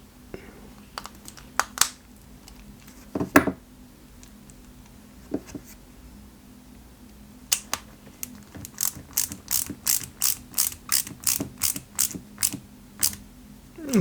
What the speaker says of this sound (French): on va y mettre 2 vis BM